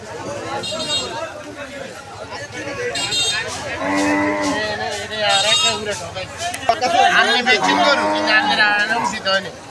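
Cattle moo loudly and repeatedly at a busy traditional cattle market, several drawn-out calls close by amid crowd chatter and people talking.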